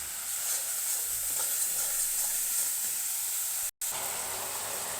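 Slit green chillies frying in a spice masala for a fish-head murighonto, giving a steady close sizzle and hiss that holds throughout, with one brief dropout near the end.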